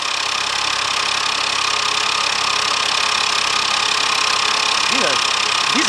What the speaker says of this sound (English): look how great that engine runs